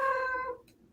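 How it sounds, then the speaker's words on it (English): A pet cat gives a single faint meow in the background, a brief drawn-out cry that trails off quickly into quiet room tone. "I apologize for my cat in the background."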